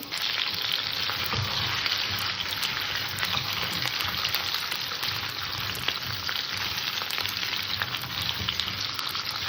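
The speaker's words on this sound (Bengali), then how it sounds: "সবজিটাকে আমি একটু ভেজে নেবো" Mixed vegetables frying in hot oil tempered with five-spice seeds and a bay leaf, producing a loud, unbroken crackling sizzle close by from start to finish.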